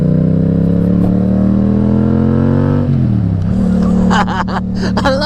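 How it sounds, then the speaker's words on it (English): A 2021 Yamaha MT07 motorcycle's exhaust rumbles loud and close in a steady running drone. Its pitch drops partway through, then it settles into a lower throb with some sharper rattling bursts near the end. "I love this exhaust, man."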